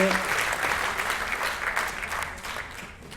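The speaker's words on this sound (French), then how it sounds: "on les applaudit encore pour la passion" Audience applause at a French awards ceremony for an entrepreneurship event, dense, sustained clapping from a crowd throughout, steady in level and without voices.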